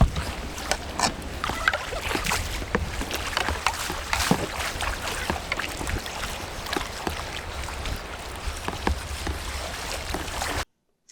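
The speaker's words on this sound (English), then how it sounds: "as I paddle into this eddy, I take my little boost stroke" A kayak paddles into an eddy on the low-water Potomac at Little Falls, with rhythmic close paddle strokes and splashes over steady rushing river water.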